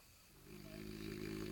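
A French bulldog gives a single drawn-out snore that rises after a brief quiet start, a soft, close, rattling breath.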